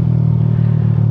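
A DBS racing exhaust on a Yamaha New Jupiter MX motorcycle rumbles at a steady idle nearby, a deep, loud, continuous drone with a slight pulsing throb.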